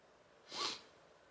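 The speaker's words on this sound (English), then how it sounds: "I'm so sorry I keep sniffing." A single short nasal sniff from a person with spring allergies, close and soft, rising and fading within about half a second over a quiet room.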